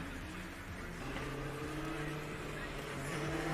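A steady engine drone from a combustion Formula Student race car running on a track during an endurance event in the Czech Republic, droning on without a clear pass-by peak, with a faint voice underneath.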